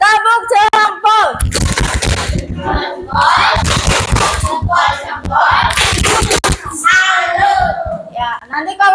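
A school class claps a rhythmic 'tepuk jempol' pattern, bursts of clapping that alternate with children chanting and a teacher's voice, loud and close in a classroom.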